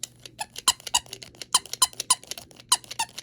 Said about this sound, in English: It's a dog toy squeaker.